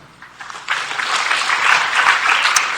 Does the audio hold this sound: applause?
yes